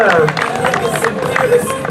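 Spectators at a nature race finish in Bouguenais clap and cheer for an arriving runner, a short burst of crowd applause with mixed voices over it.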